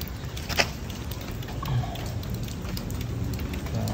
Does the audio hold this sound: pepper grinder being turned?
no